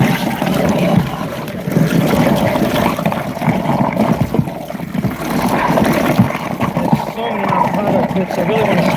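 A food waste grinder churning food scraps with running water into a slurry, a loud, steady roar and gurgle of grinding and flowing water throughout.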